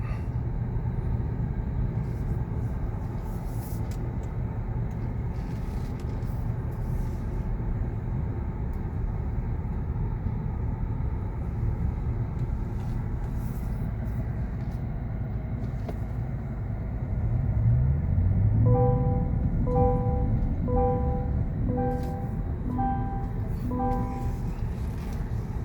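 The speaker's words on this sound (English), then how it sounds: "The acceleration's pretty instant and smooth and quiet." A 2024 Cadillac Lyriq electric car accelerates, heard from inside as a steady low road rumble and hum that swells slightly near the end, with faint tonal whine over the top and no talking.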